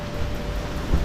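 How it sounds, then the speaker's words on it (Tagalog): Heavy rain pours steadily at night in a quiet spot, a dense, even hiss of drops that stays loud and constant, with a low rumble swelling briefly near the end. "malakas yung ulan mga tol."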